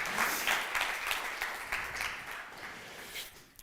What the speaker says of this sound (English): So let's give that a big round of applause.